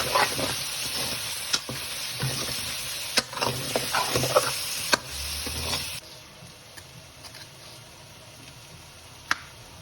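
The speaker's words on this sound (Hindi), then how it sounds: "और ये 2 हरी मिर्च मैंने काटी है वो डालेंगे और अभी इनको फ्राई होने देंगे।" Chopped green chillies and mixed vegetables fry in a pan with a steady sizzle, a few stirring scrapes and clicks cutting through, loud for the first six seconds and then settling to a quieter, softer crackle.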